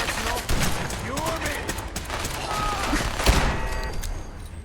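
Sustained gunfire in Fallout 4 against Protectron robots, a rapid volley of shots crackling continuously at moderate loudness, with a player's voice talking over parts of it.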